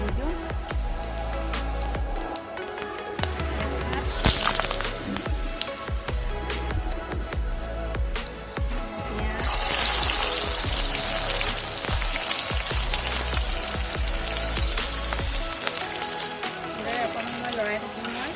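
Onions with bay leaves and cinnamon fry in hot oil in a wok, a loud, steady sizzle that carries throughout, with stirring clatter and a bright surge of spitting partway in.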